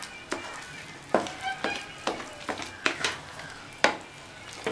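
A spoon stirs and presses cooked, ground chana dal filling in a pan for sweet poli over a medium flame: repeated scraping clacks against the pan come at an uneven rhythm over a faint sizzle, close and alone.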